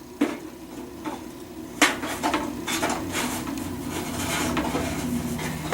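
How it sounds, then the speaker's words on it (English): A metal pan of powder-coated parts is slid into a toaster oven, giving a sharp metallic clank, a scrape and a second knock, then a steady low rattling hum, close and fairly quiet. "We're going to pop it up here in the toaster oven."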